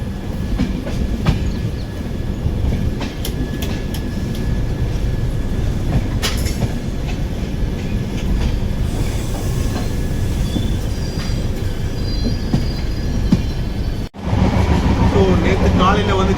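A Chennai-to-Delhi passenger train rolls along at speed with a constant rumbling roar, rhythmic wheel clatter and occasional squeals. The sound is heard from inside the carriage, with a brief dropout near the end, and someone talks over it.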